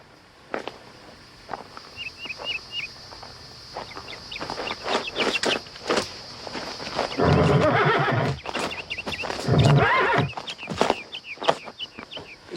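A horse whinnies loudly in a Wild West video game over a farmyard backdrop of clucking chickens and hoof clip-clops, with scattered knocks and rustling throughout.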